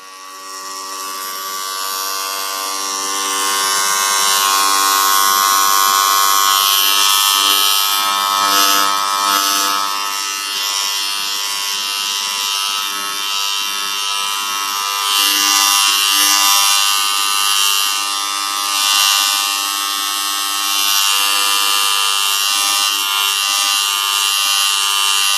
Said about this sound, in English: After some time, he took the trimmer in the hand,